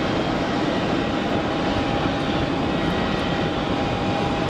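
A de Havilland Canada Otter aircraft at Geneva Airport gives a steady, loud engine drone and rush of wind noise that holds constant throughout, with no talking.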